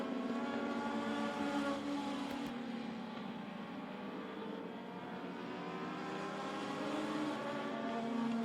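Legends race cars circle a quarter-mile oval at Meridian Speedway, their engines a distant, continuous droning whine with rising and falling pitch as the field rolls around the track.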